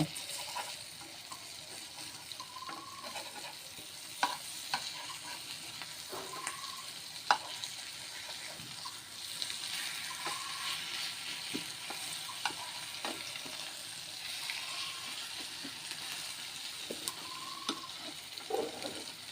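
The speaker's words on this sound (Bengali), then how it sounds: "দেখো ডিমটা আমার আরেকটু ভাজতে হবে।" Egg with potatoes and spices frying in a pan, a steady close sizzle broken by repeated scraping and stirring clicks from a spatula, with no talk.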